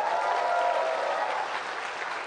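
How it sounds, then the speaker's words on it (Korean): A crowd at a Korean political event applauds in encouragement, a brief, even wash of clapping from many hands at moderate volume. "격려의 박수 한번 부탁드립니다."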